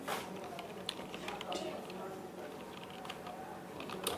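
Keys clatter on a computer keyboard while someone types code, a quiet irregular patter of clicks set against low background noise.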